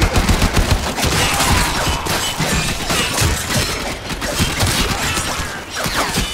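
Rapid, dense gunfire fills a firefight in the video game Warframe during a mobile defense mission, loud and continuous with overlapping bursts and crashes, no speech over it.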